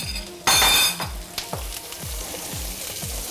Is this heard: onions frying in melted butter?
yes